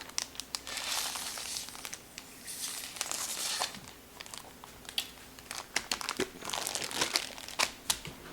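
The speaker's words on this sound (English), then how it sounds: "Stick the straw in the bag and suck all the air out." A Ziploc bag of food prepared for the freezer crinkles and crackles as air is sucked out through a straw, with soft irregular rustles and sharp little crunches at close range.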